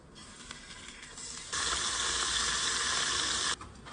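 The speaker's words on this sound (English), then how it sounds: "we're gonna go sear them real quickly on a scorching hot pan" Steaks sizzle on a scorching hot pan, giving a loud, steady hiss that starts suddenly and stops just as abruptly after about two seconds, with quieter crackling around it.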